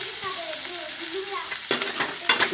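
Onions frying in a pan over low gas heat, with a steady sizzle and scraping stir strokes, including two louder stirs toward the end.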